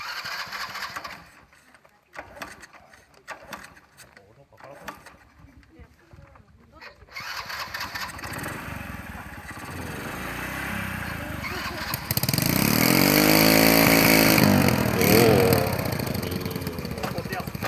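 A motorcycle engine starts up and settles into a running idle, growing louder with a sustained throaty rumble, after a quieter stretch with scattered handling noises and some talk.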